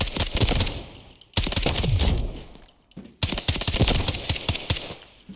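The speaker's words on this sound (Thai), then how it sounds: "ผมจะลองยิงรัวๆอีก" Rapid bursts of SR-25 DMR rifle fire in the shooter game Delta Force, three loud, dense volleys of sharp cracks in quick succession with brief gaps between them, close and dominant.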